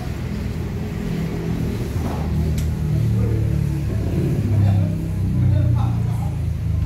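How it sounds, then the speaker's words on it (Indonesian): Agra Mas intercity bus bound for Pacitan idling at a ticket stop in Palembang, a steady low diesel rumble running throughout, rising slightly in loudness toward the end, with faint background voices. "bus sudah dihidupkan"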